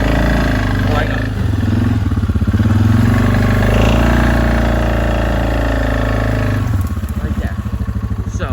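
A Suzuki KingQuad ATV engine labors steadily in four-wheel drive as it climbs, a loud, continuous low drone with a rougher, choppier stretch near the end, close by and under talking.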